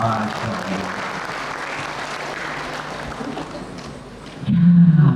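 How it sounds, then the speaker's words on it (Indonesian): Applause from an audience of teachers at a public-speaking and motivation seminar, a broad wash of clapping that goes on for several seconds before it cuts off and a loud voice comes in. "Tepuk tangan dulu untuk kita hari ini."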